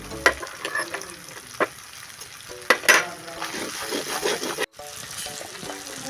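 Spice paste fries in oil for a mixed vegetable dish, giving a continuous close sizzle broken by clinks and scrapes of a utensil against the pan, with a few faint background voices.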